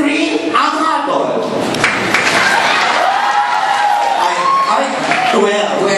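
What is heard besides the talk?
audience clapping for a candidate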